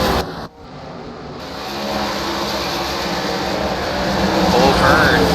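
Late model race cars roar around the track at Nashville under a green flag, a continuous dense engine drone that builds slightly in loudness, with a commentator talking over it.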